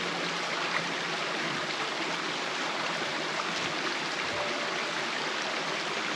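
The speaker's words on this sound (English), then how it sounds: "just as the brook enters the tunnel, there's like a step. A triangular step as it drops down and goes into." Brook water flowing steadily where it drops over a triangular step into a tunnel, a continuous broadband rushing and trickling close by with no pauses.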